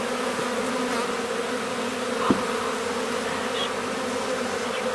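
A dense swarm of honey bees hums over hive frames, a steady, fairly loud, close buzzing drone with no talk.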